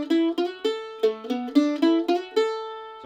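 A bluegrass mandolin plays a quick picked run with a fast slide from the blue note up to the fifth, giving several crisp close notes in quick succession with no talking.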